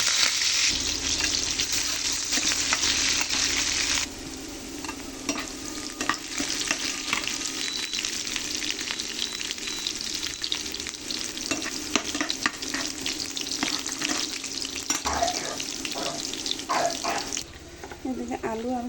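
Sliced onions sizzle steadily while being stirred in a pan for a Bengali potato bhaji, with scraping strokes and a brief burst of running tap water near the start and faint kitchen clatter near the end.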